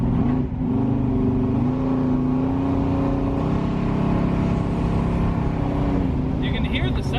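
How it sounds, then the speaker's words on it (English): Car engine with a freshly built 406 revving under load as its carburetor secondaries open, a loud continuous drone that climbs and holds steady, with people talking over it. "You can hear the secondaries open up."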